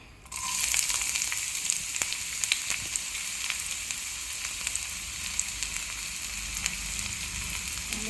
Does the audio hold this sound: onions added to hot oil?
yes